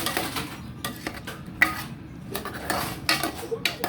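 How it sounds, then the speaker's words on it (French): Chopped okra being stirred in a cooking pot: close, repeated metal scrapes and clinks of a utensil against the pot at an uneven rhythm, with only a faint sizzle underneath. "J'ajoute mon gombo haché. Je tourne."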